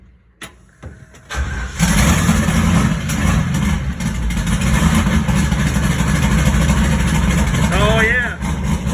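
A Chevy pickup truck engine cranks and catches, then settles into a loud, steady idle close by, with a person talking briefly over it near the end.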